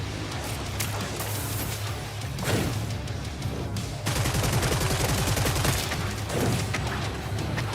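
Heavy gunfire from a sniper fight in the video game Hell Clock: dense, overlapping shots and rapid bursts that swell louder partway through, filling the clip without pause.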